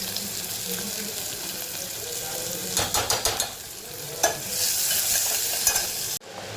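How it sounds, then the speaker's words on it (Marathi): Onion with garlic and asafoetida fries in ghee and oil with a loud continuous sizzle, broken by a run of quick scraping stirs midway and a sudden cut-off at the end. "कांदा मी भाजून घेऊया आता तुपामध्ये तेल टाकले आपण गरम होण्याला त्यामध्ये तो ओडीशी लसूण हिंग"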